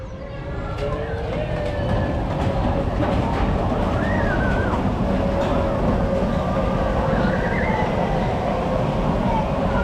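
Steady loud rumbling and clattering of the Runaway Mine Train roller coaster at Alton Towers rolling along its track, with scattered squeals and distant voices underneath throughout.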